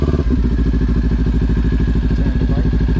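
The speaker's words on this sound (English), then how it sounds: "now I can slowly let out the clutch and give some throttle" A motorcycle engine pulls away in first gear as the clutch eases out, its steady pulsing thrum loud and close throughout.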